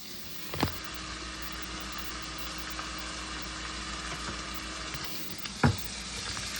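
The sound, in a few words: olive oil sizzling in a pot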